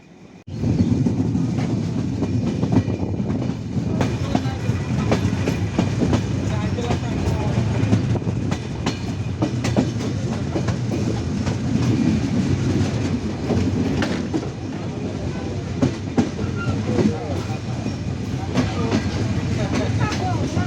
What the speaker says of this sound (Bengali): আমাদের ট্রেন থ্রো পাস করছে মাঝগ্রাম জংশন রেল স্টেশন